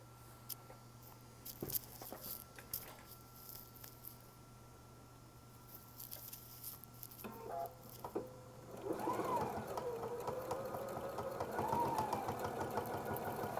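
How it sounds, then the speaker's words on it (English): A Husqvarna Viking Epic 980Q sewing machine stitches a seam through quilt layers with batting, starting after a few quiet clicks and then running as a steady, close mechanical whir with a rising and falling motor tone. "Now we're going to stitch this out."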